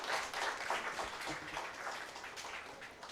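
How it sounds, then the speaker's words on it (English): Applause from the audience at a college graduation day ceremony, a fairly soft, steady patter of many hands clapping that rolls on evenly, heard at a distance with no speech over it. "Can we have one round of applause for Jai Prakash, sir?"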